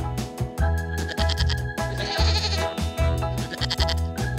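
Goats at a farm bleating loudly and close by, several overlapping wavering cries following one another without pause across the clip.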